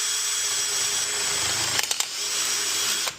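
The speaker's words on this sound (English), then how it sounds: "you're going to have to spin the drill bit up before you go in." A power drill spins a bit into metal clamped in a vise, giving a steady high whine with a few brief catches and clicks near the middle and a sharp stop at the end, close and loud.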